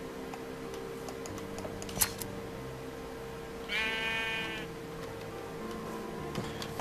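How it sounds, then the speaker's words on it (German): A sheep in the video game Minecraft gives one short, nasal bleat lasting under a second, heard over steady game background hum and a few faint clicks and taps. "Ein Schaf? Ein Schaf."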